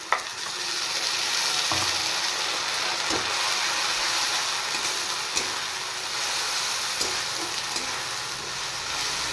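Ginger, garlic and green chilli paste frying in a pan over fried onions for fish dal, a steady sizzle with occasional stirring clicks and scrapes, close and continuous.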